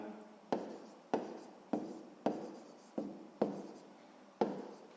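Pen or pencil strokes on paper while working out a sixth-grade maths exercise, seven quick scratchy bursts in a steady rhythm, close and fairly quiet with no talking.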